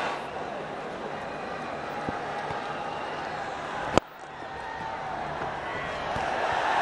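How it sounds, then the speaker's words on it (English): A cricket crowd at a tense last-wicket finish between India and the West Indies makes a broad, steady roar that keeps going throughout, broken by one sharp knock, with a commentator speaking over the noise. "it's accompanied by the expected roar from the crowd"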